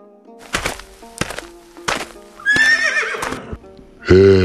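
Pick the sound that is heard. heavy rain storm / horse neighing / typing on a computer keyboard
horse neighing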